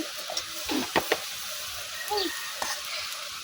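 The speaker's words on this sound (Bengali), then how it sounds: "এই যে বত্তা শাকগুলা কিন্তু আমি বসাই দিছি" Bottha greens (shak) fry in a pan with a soft sizzle, broken by a few sharp stirring clinks and scrapes and quiet hissing, faint and close, with no talk.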